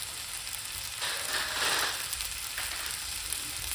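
Peppers and onion sizzling in a hot pan, a steady crackling hiss that swells briefly in the middle, with no talking.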